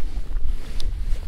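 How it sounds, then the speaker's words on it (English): Steady wind buffets the microphone with low, gusty rumbling, and faint water sounds lie underneath, heard from a small boat on a mountain lake. "So it's kind of windy."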